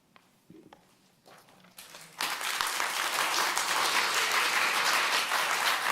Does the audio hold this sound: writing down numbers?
no